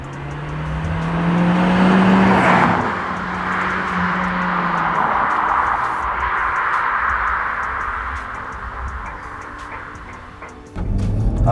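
SEAT Leon Cupra R hatchbacks, Mk1 and Mk2, on tarmac: a loud engine roar swells past at close range, then settles into a sustained whooshing drive with a droning tone that fades toward the end.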